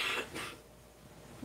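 A single short cough bursts out close by, followed by a second smaller one, then quiet room noise with a faint low murmur at the end.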